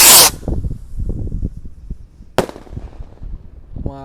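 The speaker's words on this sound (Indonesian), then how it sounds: "Sudah menyala roket roman candle jumbo guys." A jumbo roman candle firework rocket launches from a bucket outdoors, a sharp hissing burst at ignition followed by crackling, then a second bright pop midway and a fluttering whistle-like buzz at the end.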